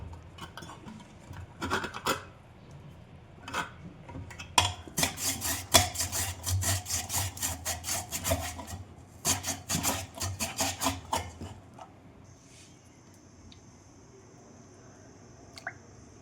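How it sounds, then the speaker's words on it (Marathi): Repeated rasping scrapes of a hand potato slicer cutting potato wafers, quick rhythmic strokes in bursts, then a pause with a faint high hum. "वेपर्स बनवायचं हे मशीन मी ऑनलाईन परचेस केलेलं आहे"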